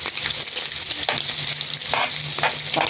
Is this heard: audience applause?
no